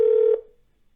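A single steady electronic telephone tone, loud and close, holds for about a third of a second and then cuts off, leaving near silence; no one speaks.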